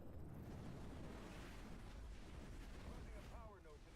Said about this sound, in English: Dropping my Scatter Bomb.